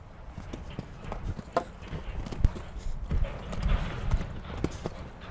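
A horse's hooves during jumping training over a line of obstacles, a series of dull thuds and strikes at a canter on soft ground, moderately close with some faint background noise.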